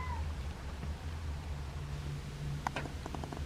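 A cat gives a couple of short meows near the end, faint over a quiet low background hum.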